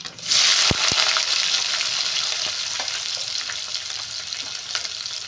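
Chopped onion and ivy gourd dropped into hot oil with a couple of sharp clacks, then a loud, bright sizzle that settles into a continuous crackling fry with occasional stirring knocks.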